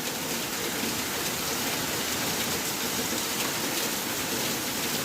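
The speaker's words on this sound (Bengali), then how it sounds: "আসলে বৃষ্টি দিলেও জানালা উবাইয়া বৃষ্টিটা দেখতে খুব ভালো লাগে" Downpour of rain outside a window, a steady even hiss of heavy drops heard from indoors at moderate level, continuous with no voices.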